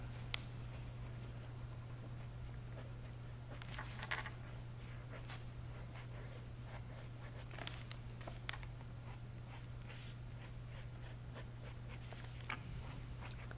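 A thin pen scratches across paper in short, irregular strokes during an art demonstration, close and quiet over a constant low electrical hum.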